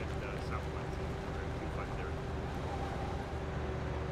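Steady low drone of a vehicle engine in the Arma military game, running continuously under nearby voice chat with faint background chatter.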